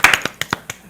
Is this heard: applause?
yes